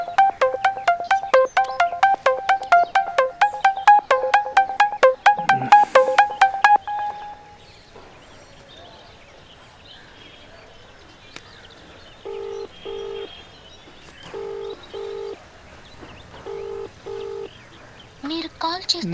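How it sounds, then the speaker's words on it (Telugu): A phone call in a Telugu suspense thriller film rings with a rapid repeating ring tone, is cut off, and after a quiet gap gives a few short, evenly spaced beep tones. "రింగ్ అయింది కానీ కట్ చేసింది."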